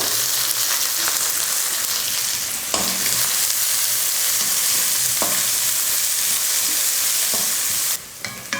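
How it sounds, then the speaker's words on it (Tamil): Onions, garlic and green chilies fry in a pan for a palak dal, giving a loud, steady sizzle broken by several sharp scrapes of stirring. No one speaks. "வெங்காயத்தை ரொம்ப கருகிற அளவுக்கு வதக்க வேணாம்."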